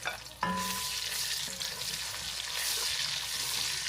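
Chopped onion drops into hot oil and sets off a loud, steady sizzle that keeps going without a break.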